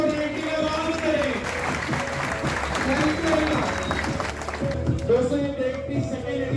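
Loud applause from an audience at a property dealers association directory launch event, dense clapping held steady for several seconds, with music and a voice running underneath.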